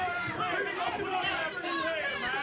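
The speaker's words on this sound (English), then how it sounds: "And the crowd right up here at ringside." A ringside crowd at a Memphis wrestling match fills the space with loud chatter and shouting, many overlapping voices rising and falling close by.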